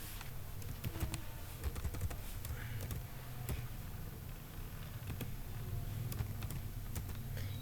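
Computer keyboard typing in quick, irregular bursts of light clicks, close but faint, over a low background hum, with no talking.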